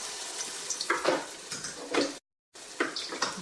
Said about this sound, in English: Then you put onion, grinded onion. You hear that sound?